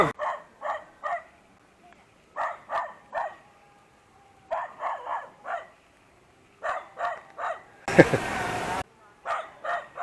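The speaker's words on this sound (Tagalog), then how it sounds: "May aso pa." A dog barks repeatedly in short bursts of two to four, fairly close, with a brief burst of rustling noise partway through.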